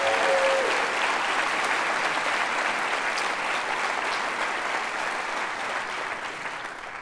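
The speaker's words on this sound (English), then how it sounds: "Let's give a round of applause if we can." Applause from the audience at a city's State of the City address, a loud sustained clapping from a large crowd that slowly thins and fades toward the end.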